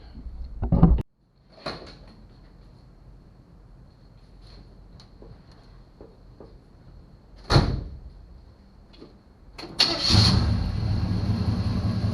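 A car door thuds shut, followed by clicks and rattles, another door slam, then a Chevrolet Biscayne's engine cranks and catches into a steady idle nearby.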